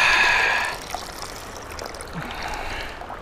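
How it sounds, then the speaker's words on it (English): Water is poured out of a container during winter river fishing, starting as a loud, splashy gush that quickly drops to a quieter running trickle outdoors. "Let's pour this water out."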